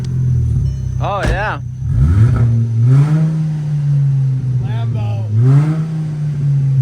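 A cheap $1000 economy car modified to sound like a Lamborghini revs hard and close, its engine rising and falling in several loud blips over a deep idle rumble, while a man briefly exclaims.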